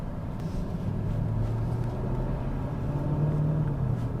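A 2026 Mercedes GLS 580 cruises in comfort mode, giving a steady low engine and road rumble inside the cabin, quiet and even throughout.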